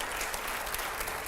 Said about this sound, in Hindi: चलिए अब तालियों की आवाज थोड़ी कम आ रही है मेरे।